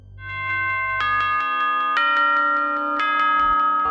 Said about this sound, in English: Why would the end of my shift in an office be signaled by a grandfather clock chime?